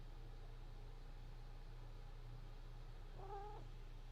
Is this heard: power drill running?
no